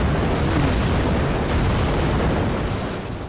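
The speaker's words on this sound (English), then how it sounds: "Here comes all 5 missile launchers again." A salvo of five missile launchers fires and explodes in the strategy game Forts, a dense, continuous roar of booming blasts that stays loud throughout and eases off slightly at the end, with no voices.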